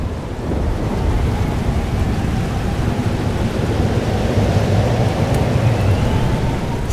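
Heavy rain pours steadily through a thunderstorm in the game Life is Strange: Double Exposure, a dense continuous roar with deep rumbling underneath and no voices.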